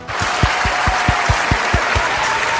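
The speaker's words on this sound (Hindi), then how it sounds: "अपने लिए तालियां बजाएं।" Quiz-show audience applause, dense and steady throughout, with a few stronger low claps standing out at a regular pace.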